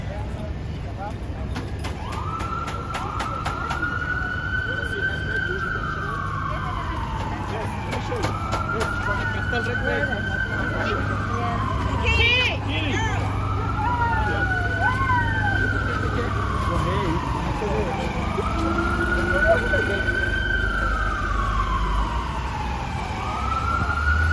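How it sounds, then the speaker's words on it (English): Emergency vehicle sirens wail, rising and falling repeatedly over a steady city rumble in Manhattan on New Year's night, with brief bursts of voices mixed in at times. "Way too many sirens tonight."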